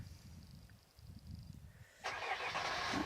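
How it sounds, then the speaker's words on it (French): An engine turns over and catches in the distance, its hiss rising abruptly and holding after a quiet, rumbling lull. "Il y a un bruit parce qu'il y a une voiture plus loin."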